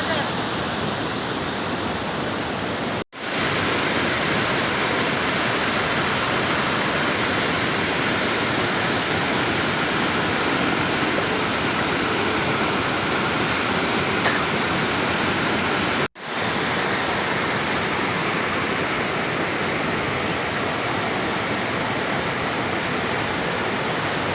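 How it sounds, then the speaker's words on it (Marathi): Flood water rushes through a stream in the Konkan after heavy rain, a loud unbroken roar of churning water close by, cut by two brief dropouts. "इकडे बघा आता पाणी आलं आहे"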